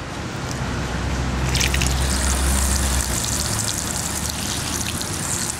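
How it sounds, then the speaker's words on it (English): Water from a hose is sprayed at the seam beneath a building door unit during a leak test, giving a loud continuous hiss and splatter with dripping and trickling throughout and no talk. "as I'm spraying water at this seam underneath"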